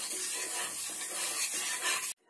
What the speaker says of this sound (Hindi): और इसे कंटिन्यू चलाते हुए मेल्ट करें।